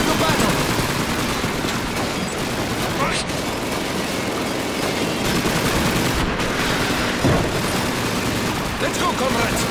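Sustained machine gun fire and battle din in Call of Duty 2's Red Army training mission, dense continuous rattling bursts with scattered booms, loud and unbroken across the whole stretch.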